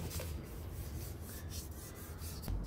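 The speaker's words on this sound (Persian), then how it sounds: "الان داریم میلنگ و پولیش کاری میکنیم. یه چند تا خط کوچیک روشه که میشه با سنباده 800 برطرفشون کرد." Continuous close-up rasping and rubbing as fine 800-grit sandpaper polishes the crankshaft of a Paykan engine, steady and fairly loud with slight rhythmic strokes and a brief heavier scrape near the end, no speech.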